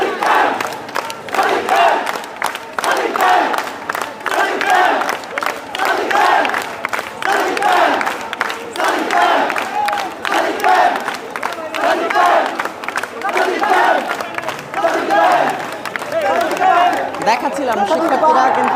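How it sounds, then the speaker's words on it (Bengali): A large crowd of students at Dhaka University chants Sadiq Kayem slogans in loud, rhythmic, repeated shouts, with cheering and crowd noise throughout. "ঢাকা বিশ্ববিদ্যালয়ের এখানকার শিক্ষার্থীরা যারা শিক্ষার্থী রয়েছেন তারা কিন্তু সাদিক কায়েম স্লোগান দিচ্ছেন"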